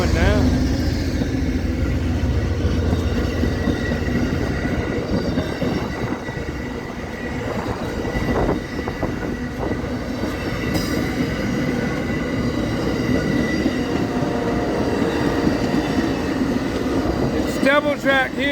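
An Amtrak passenger train rolls slowly past close by at Palatka station, Florida, wheels grinding and faintly squealing along the double-track rails, while a voice talks briefly over the steady rumble.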